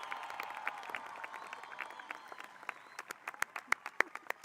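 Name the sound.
audience applause for graduates at commencement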